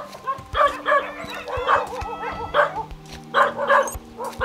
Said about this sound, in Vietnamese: Ở đây thì họ nuôi rất nhiều chó.